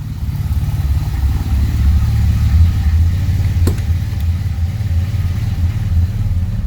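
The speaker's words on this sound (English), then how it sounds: "Now all you hear is the exhaust." Exhaust from a car with an aftermarket Radium Engineering fuel system, heard from inside the cabin as a steady low droning rumble that holds even and moderately loud throughout, with no voices.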